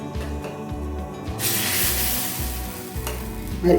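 Thick multigrain adai batter made from mixed millets hits a hot pan, and a bright sizzle swells up midway over a low rhythmic background hum, with no voices.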